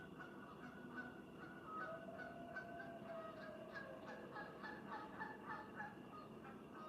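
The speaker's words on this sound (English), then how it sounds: "The geese are loud as fuck." Geese honk loudly and repeatedly in a dense, overlapping chorus that holds steady from start to finish.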